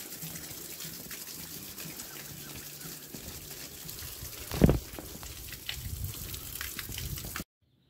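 Water from a village water source in Lwang Ghale flows in a steady gushing splash, like a tap filling, with a brief louder knock midway before it cuts off abruptly near the end.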